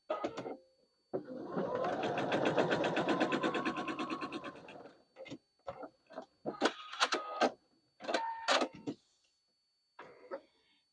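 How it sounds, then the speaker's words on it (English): A sewing machine stitches quilting fabric for a project bag, first in a steady whirring run of a few seconds, then in short stop-start bursts with quiet gaps between them. "I'm just going to stitch them together"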